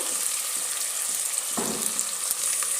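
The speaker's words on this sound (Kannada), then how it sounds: "ಇದು ಎಣ್ಣೆಯಲ್ಲಿ ಒನ್ ಮಿನಿಟ್ ಅಷ್ಟು ಫ್ರೈ ಆಗಬೇಕು" Food fries in hot oil in a pan with a steady, close hiss and one brief knock partway through.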